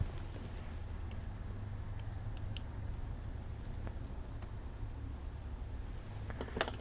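A single small snip as cutters trim a stray end of enamelled coil wire on a micro Tesla coil kit, a brief dry click against a quiet room hum.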